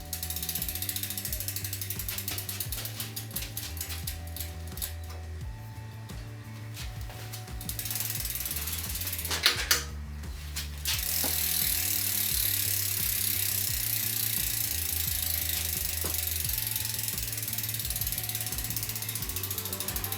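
A bolt on a rear bicycle V-brake is tightened with a ratchet wrench, giving long runs of rapid, close clicking that pause briefly and resume over a low steady hum.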